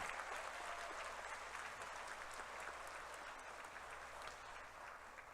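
A graduation audience gives faculty and staff a steady, sustained round of applause; the clapping sounds fairly distant and even throughout, with a faint low hum underneath.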